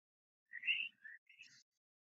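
A northern cardinal gives a short, faint sequence of three sharp, buzzy chirps with a laser-like quality, alone in silence.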